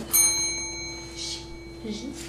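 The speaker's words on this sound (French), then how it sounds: "Le début de cette période sera montré à l'aide de cette cloche." A single bright hand bell strike rings out and lingers with a sustained, slowly fading tone, while faint voices murmur in the background.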